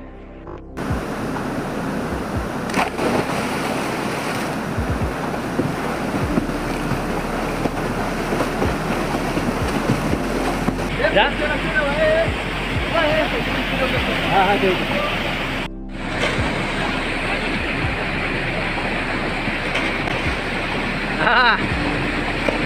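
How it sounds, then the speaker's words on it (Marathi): A waterfall in a village gorge in the Konkan countryside roars steadily as a broad, continuous rush of water, loud and close throughout, with wind buffeting the microphone and people talking over it at times. "आणि हा आमच्या कोंडीतला धबधबा आहे."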